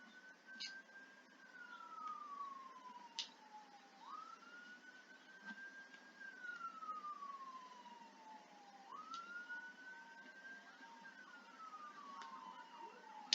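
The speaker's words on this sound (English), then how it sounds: "You can probably hear the sirens in the background." Emergency vehicle sirens wail in the background, a slow rising and falling tone repeating several times, faint and distant throughout with no talking.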